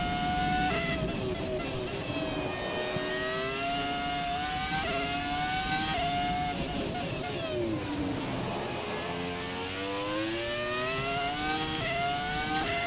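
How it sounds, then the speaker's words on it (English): A Formula 1 car engine in the F1 2017 racing game screams continuously, its high pitch rising through gears with quick drops at upshifts and a dip while braking, steady and loud. "Far out, this car sounds freaking amazing."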